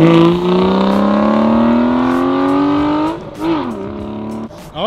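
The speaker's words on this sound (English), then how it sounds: "he burnt some tires" A car revs hard during a tire-burning burnout, a loud sustained engine whine climbing steadily in pitch, then dropping and wavering as the tires spin.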